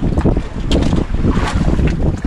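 Steady, loud rush of strong wind buffeting the microphone over churning sea waves on a squid-fishing trip, a continuous roar with no voices.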